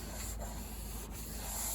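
Sandpaper rubs the old finish off the case of an 1867 Chickering 33B piano, a close, dry scratching hiss in quick repeated strokes with no talk.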